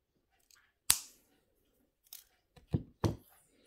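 Pendant wire snipped short with cutters, a few crisp, close clicks separated by short pauses, with no talking.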